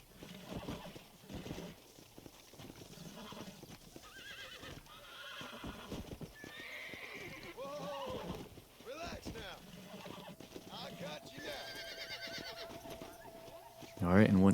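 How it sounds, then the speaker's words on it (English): A horse being broken in Red Dead Redemption whinnies and snorts while its hooves clip-clop steadily, with someone talking over the game sounds throughout. "And then just like any other horse breaking job, you just want to stay centered, watch John's belt buckle"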